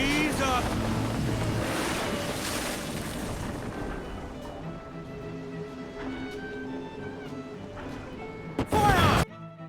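A ship sailing on the open ocean in Black Flag, with a continuous rushing wash of waves and wind, creaking and a brief crash near the end, while a voice talks over it.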